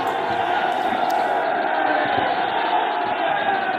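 A huge crowd roars and cheers at an outdoor political rally for Chief Minister Yogi Adityanath in Gorakhpur, a dense, loud, continuous wall of voices close around.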